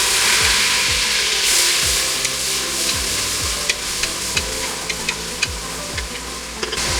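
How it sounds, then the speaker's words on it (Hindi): Chopped medium-sized tomato goes into golden brown onions frying for mutton karahi, loud steady sizzling with repeated stirring scrapes and sharp clicks of a spoon against the pan, no voices. "अब हम इसके अंदर एक मीडियम साइज का चॉप किया हुआ टमाटर ऐड करेंगे।"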